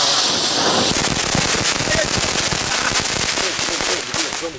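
Aldi fountain fireworks set off outdoors in Den Bosch, giving a dense, continuous crackling and fizzing spray of sparks, loud and close, with a brighter hiss at the start and voices mixed in.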